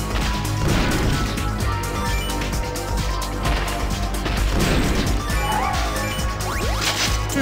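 Rapid shotgun blasts and crashing impacts from the arcade game Metal Slug 6 fire continuously and loudly, layered with game music and explosions throughout.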